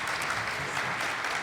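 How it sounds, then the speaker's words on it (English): An audience at a STEM conference main-stage session claps in a brief, dense, steady burst of applause, with no voices over it. "let's give them a wonderful round of applause"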